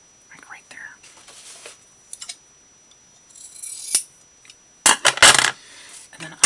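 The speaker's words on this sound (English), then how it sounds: "I'm just going to use my scissors instead of trying to rip this" Scissors cutting linen fabric for a quilted paper-craft journal, heard as a few sharp, close snips near the end after quieter rustling and handling sounds, with soft whispered speech.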